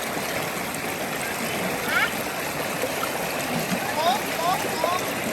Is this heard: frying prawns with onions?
no